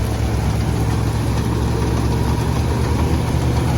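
A Sonalika 55 DI tractor drives a straw-chopping machine through a pulley, giving a loud, steady, close engine drone with an even low rumble and no breaks.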